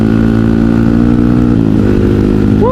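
A motorcycle on a night ride gives a loud, steady engine drone throughout, with the pitch dipping and shifting slightly partway through as the bike changes speed.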